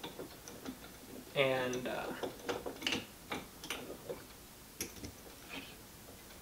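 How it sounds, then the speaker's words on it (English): Bolt loosened on a Hatfield shotgun stock, a run of quick ratcheting clicks followed by scattered small metallic ticks and taps, close and quiet, with a brief word spoken. "you're just gonna get that bolt loosened up"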